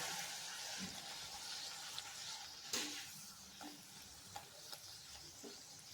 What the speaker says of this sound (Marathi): एकदम कमी आणि मीडियम अशा फ्लेमवर हे आपल्याला तळून घ्यायचे आहेत